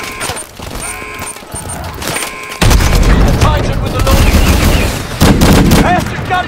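Rapid gunfire and explosive booms in the video game Call of Duty: Advanced Warfare, dense, loud bursts of shots and blasts filling most of the clip.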